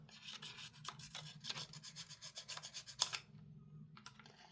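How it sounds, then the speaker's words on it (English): A very smooth hand file rasps off mould lines on airsoft gas blowback rifle parts, with short repeated strokes close by, a few sharper scrapes and a brief pause near the end. "Just basically trying to remove any moulding lines or mould marks."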